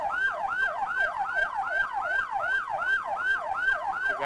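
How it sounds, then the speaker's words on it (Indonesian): An ambulance siren wails in a steady rising-and-falling cycle, loud and continuous with faint traffic rumble beneath. "3 ambulan"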